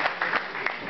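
Brief burst of audience applause, a dense steady clatter of many hands lasting under a second, fairly loud and close.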